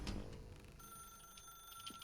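A telephone rings faintly in The Stanley Parable: Ultra Deluxe video game, a quiet electronic tone against a low background murmur, with no talk.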